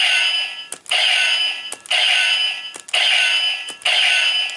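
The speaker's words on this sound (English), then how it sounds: "Pull it and you'll get nice clanging sound" The Gokai Saber toy from Gokaiger rings out its electronic clanging effect when the trigger is pulled, four shrill metallic bursts in a row, each lasting about a second, loud and close.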